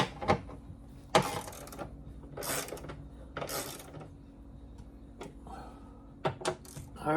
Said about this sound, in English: We got to tighten all the bolts now.